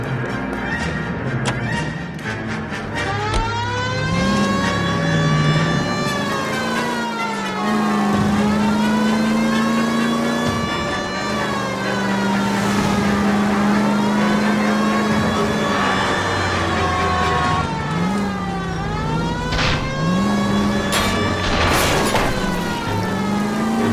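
Car engine in the video game L.A. Noire pulls away and accelerates, a loud steady drone rising and falling as it revs through gears, with a siren-like wail layered over the driving.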